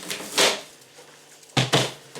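A plastic bin on top of a freezer being handled indoors, giving a few loud, close knocks and clatters in short bursts with quieter shuffling between.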